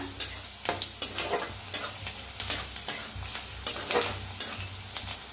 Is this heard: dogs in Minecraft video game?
no